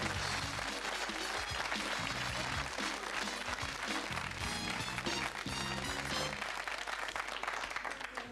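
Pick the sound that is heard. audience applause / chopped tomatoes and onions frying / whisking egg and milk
audience applause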